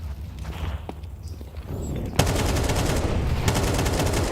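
Rapid bursts of AK rifle fire in Counter-Strike at a pro tournament, starting a couple of seconds in and continuing steadily as sharp repeated shots over game ambience.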